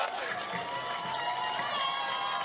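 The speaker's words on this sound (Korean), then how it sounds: "후보들과 다 같이 손잡고 큰 박수 부탁드립니다" A political rally crowd in Cheonan roars in a continuous, loud wash of cheering and shouting for Democratic Party candidates, with voices blending into the noise and no pauses.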